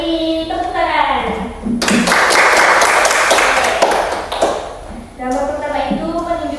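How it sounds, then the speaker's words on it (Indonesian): A primary school class bursts into dense, loud applause for about three seconds between stretches of someone speaking, with the clapping fading as her voice returns. "Beri tepuk tangan"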